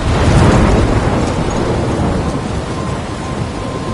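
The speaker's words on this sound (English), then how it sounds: "I'm trapped in a storm?" A heavy thunderstorm rolls through the video game Life is Strange: a loud, deep rumble of thunder swells and then fades beneath continuous dense rain.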